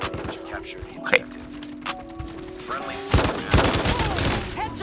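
Bursts of RAAL MG machine gun fire in Call of Duty Mobile, loud, rapid clustered volleys mixed with game sounds and a voice talking over them.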